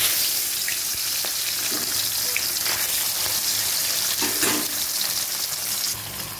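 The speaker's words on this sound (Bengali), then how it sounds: "এই যে মাছ ভাজা বসাচ্ছি, ভোলা মাছ" Bhola fish sizzling steadily in hot oil in a pan, a dense crackling fry held at an even level throughout with occasional sharper pops.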